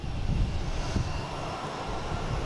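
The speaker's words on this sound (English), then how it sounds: "We have Alaskan Airlines coming in" An Alaska Airlines Boeing 737-900 jet arriving from Seattle at Boston Logan International Airport rumbles with a steady, fairly loud engine roar at a moderate distance, with no voices over it.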